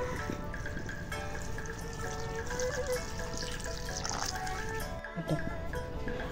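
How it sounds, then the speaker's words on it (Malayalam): Coconut milk poured into half-cooked tapioca in a pot, a steady close liquid pour and trickle running throughout with a brief clatter near the end. "അതിൻ്റെ അകത്തോട്ട് നമുക്ക് തേങ്ങാപ്പാൽ ഒഴിച്ചിട്ട് നന്നായിട്ടൊന്ന് ഇനി വേവിച്ചെടുക്കണം."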